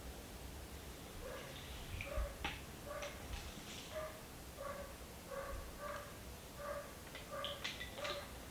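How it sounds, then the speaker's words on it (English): A neighbor's dog gives a run of short whimpers and yips at a steady rhythm, faint and somewhat distant, over a quiet background. "My neighbor's dog is not a fan of mead, apparently."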